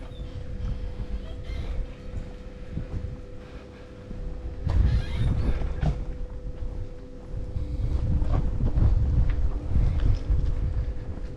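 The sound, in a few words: wind blowing on microphone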